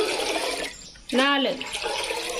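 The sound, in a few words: water poured into rice flour in vessel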